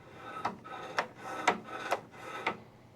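Snowblower auger engagement cable sliding as the handle is worked, giving five evenly spaced scraping rasps about half a second apart, close and moderately loud with no talking.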